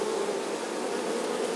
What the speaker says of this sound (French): il y a des abeilles qui battent des ailes là